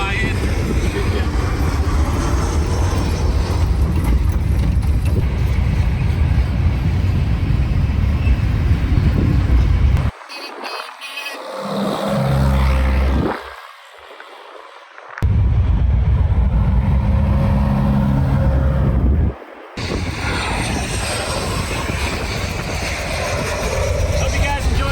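A 1942 Willys Jeep on a test drive: a steady, loud engine drone and road rumble that drops away briefly twice, with a voice heard over it.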